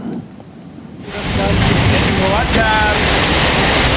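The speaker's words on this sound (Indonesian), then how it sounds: "Hujan deras membuat aliran kali di Kelurahan Kalijaga, Kota Cirebon meluap hingga merendam permukiman warga" Heavy rain pours during flooding in the Kalijaga area of Cirebon, a dense steady hiss that swells loud after a quieter first second and stays constant, with faint voices and tonal sounds in the background.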